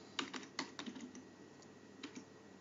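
Computer keyboard keys tapped while entering a terminal command, a few quiet scattered clicks in a short irregular burst, close and alone.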